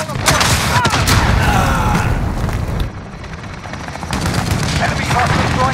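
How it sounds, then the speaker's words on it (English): Chopper gunner firing from a helicopter in Call of Duty: Modern Warfare (2019), with loud, sustained bursts of heavy gunfire and explosions over a constant rotor drone, pausing briefly midway before resuming, while voices talk over it. "Enemy chopper gun on the front."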